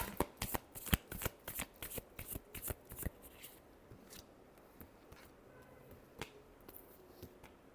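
Tarot cards being shuffled by hand, a quick run of crisp riffling flutters for about three seconds, then a few sparse, softer card slaps and rustles, close and clear with no talking.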